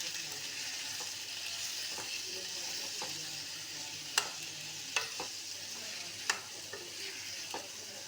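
Ingredients for a mushroom curry sizzle steadily in hot oil in a pan, with a few sharp clicks and scrapes of stirring breaking through the constant hiss.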